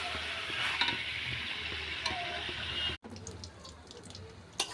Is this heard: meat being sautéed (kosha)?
yes